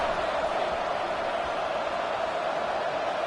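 A football stadium crowd roars before kickoff, a dense, sustained wash of distant voices and cheering with no single speaker standing out.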